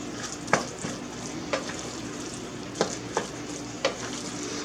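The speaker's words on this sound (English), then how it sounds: "Then we're going to mix all of that together." Browned hamburger mince and cream of mushroom soup get stirred in a hot pan for a casserole, with a steady low sizzle broken by a few separate scrapes and knocks of the spoon.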